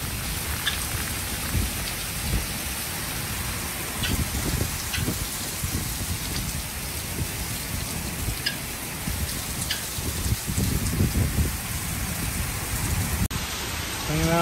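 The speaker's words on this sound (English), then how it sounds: "More rain delay." Steady rain falls by a porch in a heavy, continuous hiss with dense pattering drops close by, no voices heard.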